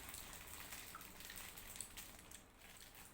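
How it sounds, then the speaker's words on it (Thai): Rain falls steadily in a soft, continuous patter with scattered sharper drips, faint and distant, with no voices. "ฝนตกดีดีนะเพื่อน"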